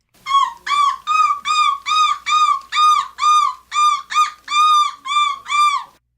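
A loud, close bird call repeats about a dozen times in an even rhythm, each note a bright, rising-and-falling whistled cry with short gaps between, with no talking.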